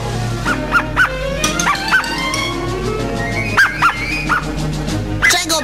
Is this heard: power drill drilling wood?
no